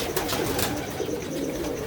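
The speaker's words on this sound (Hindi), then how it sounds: "ये देखें अंदर उड़ा है कबूतर" Pigeons fluttering and cooing inside a rooftop cage, with soft, steady coos and rustling close by over low background noise.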